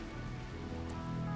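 Rain falling in the colony game Rimworld: a soft, steady hiss of rain under a low droning background, faint and continuous with no breaks.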